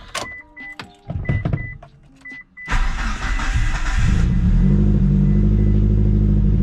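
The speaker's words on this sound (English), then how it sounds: "let's see what it's like a full cold start" A Mitsubishi Evo engine cold starts after a few clicks and faint starter noises, cranking briefly then catching into a loud, steady, close idle that holds to the end.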